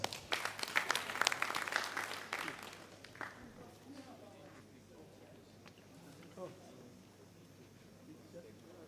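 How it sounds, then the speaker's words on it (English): An audience at a keynote address claps for the professor in a brisk burst that fades after about three seconds, leaving quiet room sound with faint voices. "Applause again to the professor."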